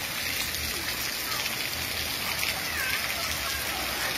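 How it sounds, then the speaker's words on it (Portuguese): Heavy morning rain pours down in Fortaleza, Ceará, a dense, even hiss of drops on surfaces that never lets up, with a voice faintly underneath. "Aqui, a chuva, para fertilizar a terra."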